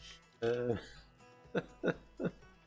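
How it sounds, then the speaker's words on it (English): Someone with hiccups on a noisy night, three short abrupt hiccup bursts spaced about a third of a second apart, following a brief voiced sound, close and fairly faint. "Oh, and I've got hiccups as well."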